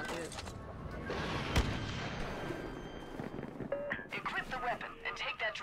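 Weapon fire aimed at a probe droid in the Star Wars Battlefront video game, with sharp blaster shots and a sustained burst of game effects while a voice talks over it.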